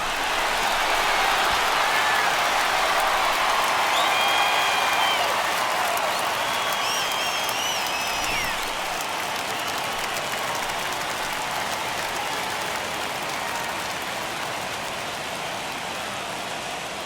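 A stadium crowd cheering in the baseball video game MLB The Show 21 after an RBI base hit, a broad sustained roar that slowly fades, with a few whistles and shouts rising above it.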